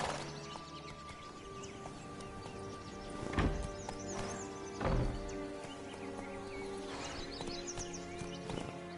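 Horse galloping in the Witcher 3 video game, steady hoofbeats clopping under a sustained musical and ambient bed, with a couple of heavier thuds standing out midway.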